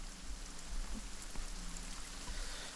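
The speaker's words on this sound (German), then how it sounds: "jetzt wird es dunkel und es regnet" Steady rain falls at night in the survival game The Forest, a dense even hiss of drops with low rumble underneath, moderately quiet and continuous with no voices.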